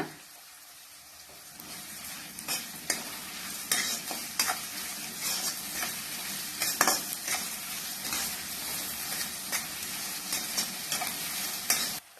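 Onions with curry leaves stir-fried in a pan for egg kothu parotta, a steady sizzle broken by repeated sharp scrapes and clacks of a spatula, close and fairly loud, with no voices.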